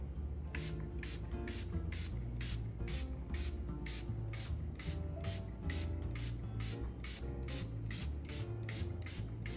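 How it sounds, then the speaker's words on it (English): A powder-melt setting spray misted generously over a made-up face: a rapid, regular train of short pump hisses, evenly spaced and fairly close, against a steady background hum, with no talking. "I'm gonna use the One Size Powder Melt Setting Spray"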